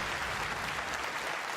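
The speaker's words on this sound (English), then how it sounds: "Applause! Here he comes! Chris Wilson!" Applause from the audience at the ExileCon opening event, a dense, even wash of many hands clapping at moderate volume, heard briefly on its own.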